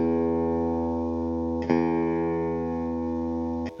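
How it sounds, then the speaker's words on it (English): Sustained electric guitar chord rings out with a vintage bent steel bridge saddle fitted, re-struck once midway and again near the end, steady and clean with no talking. "And this is how a bent steel bridge saddle sounds,"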